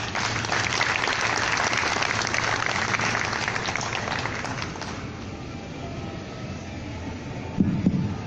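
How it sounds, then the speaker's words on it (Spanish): Audience applause at a lecture on interculturality in Peru, a steady, fairly loud wash of clapping that thins slightly toward the end. "Le reiteramos nuestra gratitud con fuertes aplausos."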